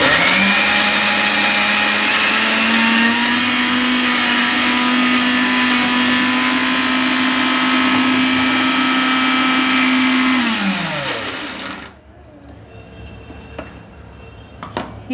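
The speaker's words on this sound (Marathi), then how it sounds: "हे असं टाकून मस्तपैकी मिक्सरला पटकन वाटून घ्यायचे।" A kitchen mixer grinder whirs loudly and steadily as it grinds soybeans for kofta, holding one even motor pitch for about eleven seconds before spinning down and stopping, leaving quiet room noise.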